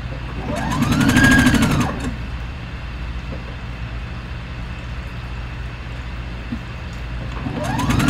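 A sewing machine stitches the shoulder seam of a duster robe in one loud burst of about a second, then falls to quiet room hum before a second run begins at the end.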